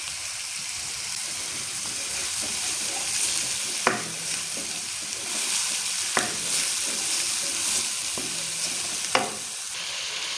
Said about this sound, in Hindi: अब 2 से 3 मिनट हम भूनेंगे।